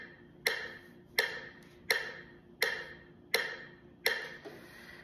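A metronome set to 84 beats per minute clicks steadily, six sharp ticks evenly spaced, close and fairly quiet over a faint background hum.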